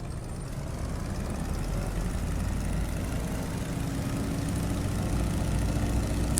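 Engine of a DC Designs Stearman biplane in Microsoft Flight Simulator throttling up for a rolling takeoff, a steady, close, low drone that grows gradually stronger.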